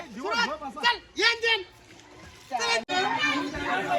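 Children splash and play in a swimming pool, with excited kids' shouts and squeals over light water splashing, joined later by an adult voice talking nearby.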